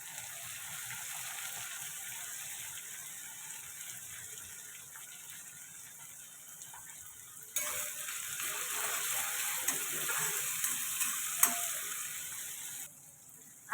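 Finely chopped tomato hitting onion frying in plenty of oil: a low, steady hiss that jumps louder and brighter midway, with a few faint clicks, close by and without speech.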